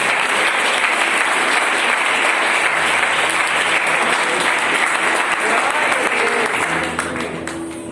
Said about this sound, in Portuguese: Pode aplaudir Jesus por essa vida.